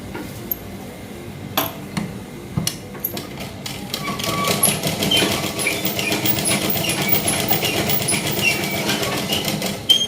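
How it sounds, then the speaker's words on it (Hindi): A sewing machine stitching a petticoat waistband, starting with a few separate clicks and knocks, then running in a steady, fast mechanical whir for the last six seconds, close and without talk. "और इस पर एक हम चाप सिलाई लगा देंगे, खुलने का डर नहीं रहेगा ऐसे"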